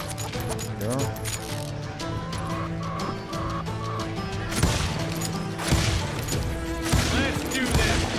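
Chickens clucking and gunfire in the Call of Juarez western shooter game, a dense busy mix of shots and bird calls with music, with people talking over it throughout.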